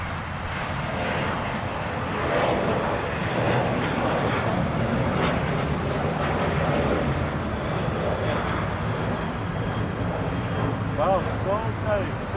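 Boeing 737-800 jet departing LAX: a loud, sustained roaring engine rumble filling the whole stretch, steady and close, with people talking faintly underneath.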